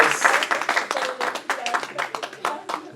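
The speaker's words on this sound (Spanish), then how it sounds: "Un aplauso." Scattered hand clapping from a church congregation at a Sunday service rises over voices, uneven sharp claps mixed with chatter and calls, fairly close.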